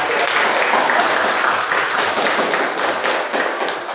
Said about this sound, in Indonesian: Jadi kita berikan tepuk tangan untuk kegiatan hari ini